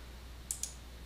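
Two quick, crisp clicks from a computer mouse, a fraction of a second apart, close and fairly faint over a steady low hum.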